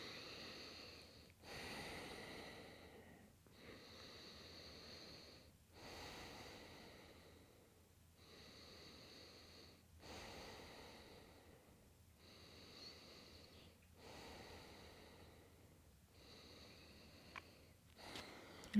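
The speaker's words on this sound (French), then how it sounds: "Et on va venir faire 5 respirations dans cette posture." Deep, slow breathing held in a yoga posture, about five full inhale-exhale cycles of soft airy breaths, close and quiet in a calm room.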